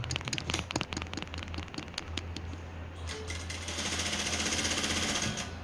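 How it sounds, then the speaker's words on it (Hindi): A sewing machine stitches the straight center seam of a kurta, its needle pounding in a fast steady rhythm that runs in bursts, then settles into a continuous whir. "कट से कट मिला के एक बीच वाली सिलाई लगा देना भाई, बिल्कुल सीधी।"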